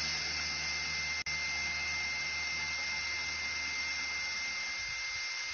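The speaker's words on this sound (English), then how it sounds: "My drill fits onto my jack, so I can just use my jack electrically." An electric drill driving a car jack gives a steady, high-pitched motor whine continuously at close range, with a single sharp click early on and no talking.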